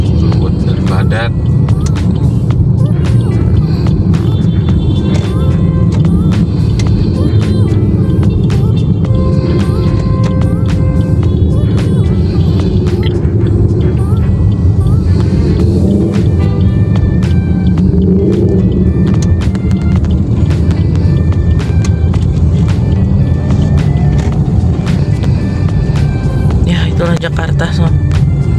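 Busy Jakarta road traffic, a continuous low rumble of cars and motorcycles with passing engine noise, steady and fairly loud, as a person talks over it.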